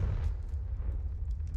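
The Confringo spell in the Hogwarts Legacy video game bursts in a deep, rumbling blast, booming heavily and staying loud for the whole short moment.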